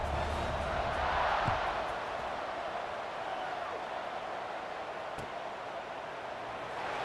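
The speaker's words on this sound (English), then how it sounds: "this crowd is buzzing after that last score" A stadium crowd in the College Football 26 video game buzzes after a score: a steady, dense roar of many voices that swells briefly early on, then holds level throughout.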